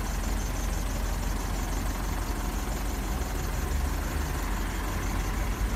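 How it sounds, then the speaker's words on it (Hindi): A Mitsubishi Pajero Sport's engine idles with a steady, even low hum that stays constant and fairly quiet throughout, with no voices over it. "और कार में इतना नॉइस भी नहीं है,"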